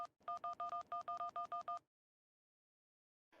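A phone number is dialed as a quick run of about eleven short, evenly spaced keypad tones, clear and close, followed by silence and then a faint trailing sound.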